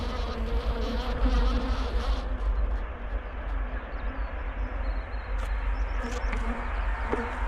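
Honey bees from freshly moved hives at a new apiary buzz steadily in a dense close swarm, a continuous drone with occasional individual bees flying past.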